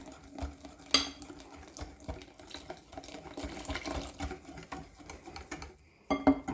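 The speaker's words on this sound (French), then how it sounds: "on va introduire le lait tout doucement, tout en fouettant, pour avoir un mélange bien homogène" Milk being whisked by hand into clafoutis batter for an apricot clafoutis, with a steady rhythmic tapping and scraping of the whisk against the bowl, close up, and a brief pause before a louder burst at the end.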